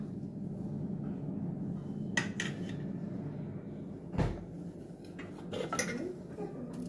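A spoon adds chili powder and clinks against cookware while spinach fritters are being prepared, giving a few quiet scattered taps and one sharper knock amid soft kitchen rustling.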